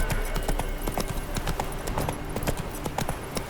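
Roach, a horse in The Witcher 3, gallops with a steady, rapid clip-clop of hooves close by, continuous throughout over a low game ambience.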